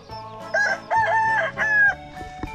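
A rooster crows loudly and close by, a few drawn-out calls in quick succession.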